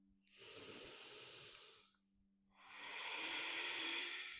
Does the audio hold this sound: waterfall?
no